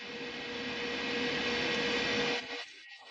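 Loud steady broadband hum and hiss of a running VTOMAN Jump 2200 portable power station with a faint tonal whine, cutting out abruptly near the end.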